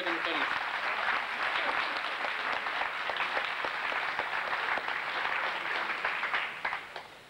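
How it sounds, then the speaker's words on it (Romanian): Parents at a 1999 aikido championship in Romania receive a steady wash of applause from the hall, dense and continuous for several seconds before tapering off at the end, with voices mixed in. "Aplauze pentru părinți."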